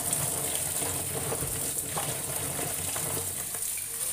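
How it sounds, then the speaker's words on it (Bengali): Green chillies being washed in a bowl of water, a steady close splashing and trickling wash with no talk over it. "এভাবে ভালো করে মরিচগুলোও ধুয়ে নিচ্ছি"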